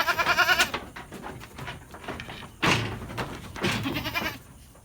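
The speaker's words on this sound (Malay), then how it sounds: "Ini kambing PE ya." A young Peranakan Etawa (PE) goat, about seven months old, bleats loudly and nearby in a barn, with one bleat at the start and two more a couple of seconds later.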